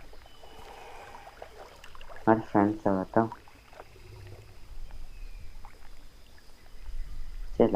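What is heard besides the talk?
crocodile moving in water in video game The Isle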